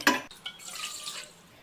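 Water, 250 ml, poured into a pan while making moringa tea, opening with a sharp metallic clank before a short, softer splashing pour that fades out.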